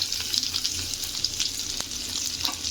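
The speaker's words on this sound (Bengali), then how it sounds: "পেঁয়াজ দিয়ে ভাজা করবো।" Onions sizzle in hot oil in a pan, a close, steady frying hiss with small pops and a stir or two, uninterrupted by any voice.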